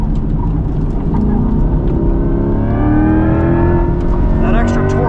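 2024 Chevrolet Corvette E-Ray accelerating hard out of a track corner, engine note climbing steadily in pitch from inside the cabin, with a voice talking over it.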